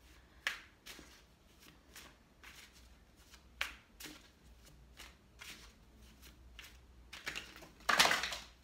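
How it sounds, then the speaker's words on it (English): Rider-Waite tarot cards being handled and dropped, a quiet run of soft flicks and shuffles with brief gaps between them, ending in a louder clattering scatter of cards, close by with no talking. "I dropped a bunch of cards."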